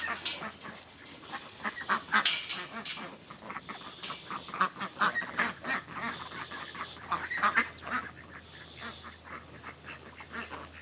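Ducklings and adult ducks quacking around a chicken moat, a busy overlapping chorus of repeated quacks and peeps, fairly close and steady throughout.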